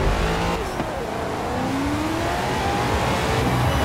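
A Corvette in Forza Horizon 4 revs and accelerates, its engine note rising and sweeping in pitch in a steady, loud drone with no talk over it.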